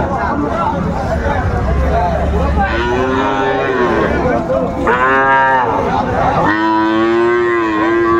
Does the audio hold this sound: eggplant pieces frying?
no